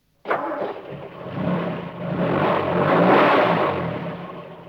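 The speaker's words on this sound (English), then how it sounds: "You're going walkies in a great big fire engine." A big fire engine starts up and drives off, its engine catching abruptly and then revving and building in a steady rising drone.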